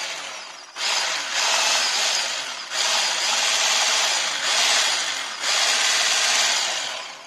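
Kitchen blender running in bursts while mixing cake batter of flour, milk and oil, a loud whirring drone that stops and restarts several times at close range, with no talking.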